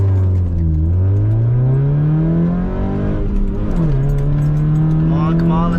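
Hyundai Tiburon engine revving at launch near 2,500 RPM: a loud, steady engine note climbs, briefly dips twice, then holds, with a person talking over it.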